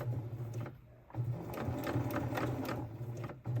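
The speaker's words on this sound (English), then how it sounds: "I'm just gonna go ahead and sew all the way across until I get to the end, making sure to back stitch." A sewing machine stitches steadily across the hem of a heating pad, a close, continuous mechanical whir with rapid needle clatter, pausing briefly once before resuming and running to the end.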